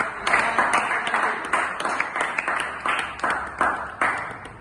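Audience clapping fills a classroom at an Islamic madrasah fiqh lesson, a steady close patter of many hands lasting several seconds with no voices over it.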